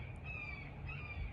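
A bird calls outdoors in spring, a single faint, brief cawing note over quiet background ambience.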